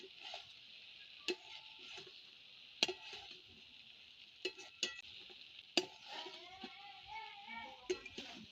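Soy chunks are stirred into frying masala in a wok, with irregular sharp clinks and scrapes of a spoon against metal over a faint background sizzle, close by and otherwise quiet.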